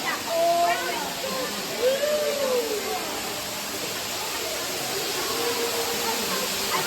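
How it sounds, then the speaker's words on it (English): Water falling at a Silver Dollar City attraction, a steady loud rushing roar with people talking nearby. "this is the water falling off right here"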